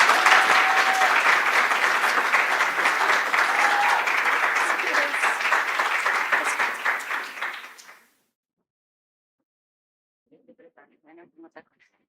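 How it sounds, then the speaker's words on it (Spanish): Loud applause from an audience greeting a speaker at a lecture event, a dense wash of clapping that fades out after about eight seconds, followed by silence and a brief, faint voice. "Por favor, con un fuerte aplauso,"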